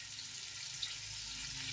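Oil or butter spatters in a pan while basmati rice pulao is being cooked, giving a faint steady sizzle that ends in a sudden sharp splash of crackling.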